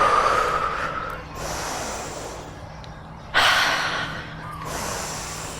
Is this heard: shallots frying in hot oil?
no